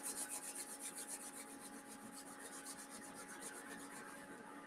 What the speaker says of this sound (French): Et de nouveau, on frotte les mains.